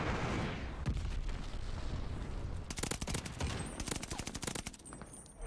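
Rapid bursts of automatic weapon fire crackle in a video game, starting as a dense rattle and turning into sharp repeated volleys in the second half, loud and close.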